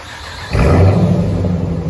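A 2012 Jeep Grand Cherokee with the 5.7L HEMI V8 and Carven TR-Series true dual exhaust cuts in after a brief quiet moment with a loud, deep rev that rises and then holds as a steady, throaty rumble close by.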